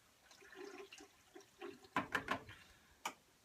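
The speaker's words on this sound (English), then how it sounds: "I'm going to pour some water in here to pre-wash." Water is poured into a film developing tank for a pre-wash. A few short, faint splashing gushes come in quick succession, followed by a single sharp knock.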